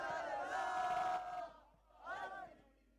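Arena crowd at a Valorant esports grand final chanting in unison, a loud sustained roar of voices that fades, then a second shorter chant swells and drops away.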